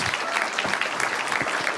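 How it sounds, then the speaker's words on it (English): An audience claps briskly after a talk on the Israel–Hamas war, a short burst of steady applause filling the whole moment without speech. "Give him a good applause."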